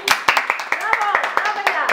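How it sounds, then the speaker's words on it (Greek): Hands clapping in quick, irregular bursts of sharp claps, close and fairly loud, opening a Christmas gingerbread house challenge in Greek. "Χειροκρότημα."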